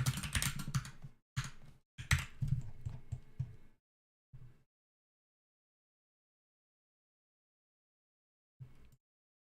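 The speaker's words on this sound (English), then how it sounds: "Do people enjoy the sounds of typing?" Computer keyboard keys clatter in quick bursts of close typing, several flurries in the first four seconds, then a short tap and a long silence before one last brief burst.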